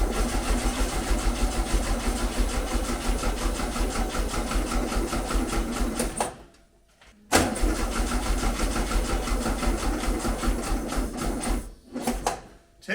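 A VW Beetle engine fitted with an EFI system cranks and fires, running loud and steady with a rough, ticking mechanical rhythm, cutting out briefly twice before catching again.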